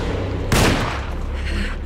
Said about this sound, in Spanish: este le frío a tiros de pistola